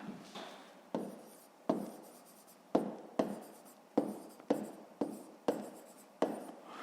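A pen scratches across paper while a math exercise answer is written out, in a steady series of about ten short strokes, each starting with a crisp onset and trailing off, recorded close.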